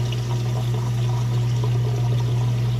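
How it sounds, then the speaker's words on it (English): Whirlpool washing machine draining its water, a steady low hum with continuous rushing, gurgling flow running throughout at close range, with no talking. "you can hear it draining that water out nice and fast."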